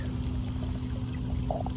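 Water pours steadily through a filter on a 55 gallon aquarium, a continuous close splashing and trickling with a low steady pump hum underneath and a few gurgles near the end, no one speaking.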